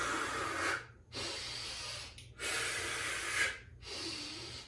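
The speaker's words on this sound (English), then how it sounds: "So that kind of breathing I want you guys to really pay attention to." Strong, forceful breaths through the nose and mouth during a pull-muscle home workout, three long hissing exhales separated by short pauses, close and loud with no talking.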